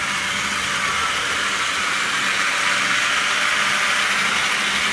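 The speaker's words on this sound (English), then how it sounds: "The XO3 motor in the pannier really sounds good." A Hornby pannier locomotive model train with an XO3 motor runs continuously, giving a steady, fairly loud whirring hum with a faint rattle of wheels on track, no talk.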